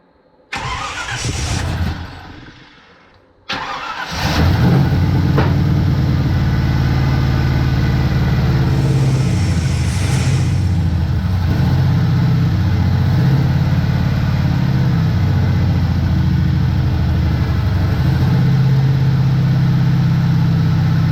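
Car engine with a freshly cleaned exhaust starts after a brief rumble and gap, then settles into a steady, fairly loud idle with a low, even drone throughout.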